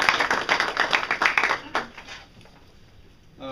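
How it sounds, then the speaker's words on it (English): A round of applause at a commendation ceremony honouring public safety officers: dense, lively clapping from a crowd for about two seconds, then tapering off into near quiet, with a brief swell returning at the very end. "I would suggest a round of applause for what these folks did."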